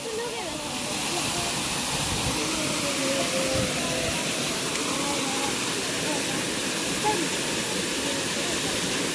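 Rabandhar waterfall pours in a steady, broad rushing hiss that fills the whole stretch, with faint voices talking underneath.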